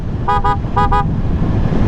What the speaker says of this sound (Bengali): give me this loudest horn